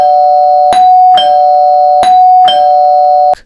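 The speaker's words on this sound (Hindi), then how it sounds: "तभी दरवाजे पर 3 बार डोरबेल बजती है।" A doorbell rings three times in a quiet room, each press giving a loud, bright two-tone chime that sustains evenly before the next, ending abruptly.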